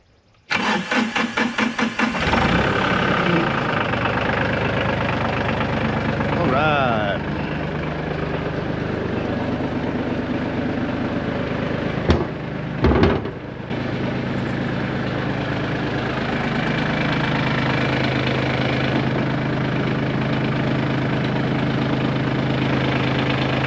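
A diesel tractor engine cranks with a quick series of turnover pulses, catches and settles into a steady, rumbling idle that runs nearly the whole time, briefly interrupted by a couple of clunks midway.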